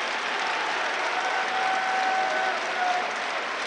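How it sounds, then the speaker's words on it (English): Steady applause from a crowd at a state high school wrestling championship, continuous and fairly distant, filling the arena without any voices rising above it. "you see him applauding as well"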